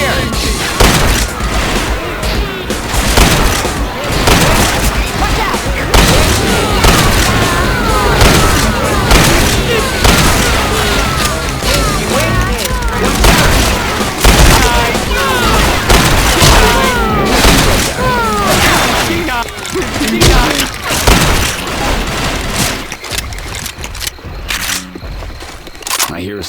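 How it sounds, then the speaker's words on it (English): Chaotic combat in the zombie shooter Left 4 Dead 2 on the Swamp Fever campaign: heavy booms from bomb explosions amid constant gunfire, loud and dense, with game character voices shouting over the din. "Bomb incoming."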